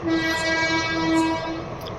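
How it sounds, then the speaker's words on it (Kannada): A loud, sustained horn from a passing train blares close by over a heavy rumbling of rail traffic, holding a steady tone for about two seconds. "ಬಂತು ನೋಡ್ರಿ ಟ್ರೈನ್"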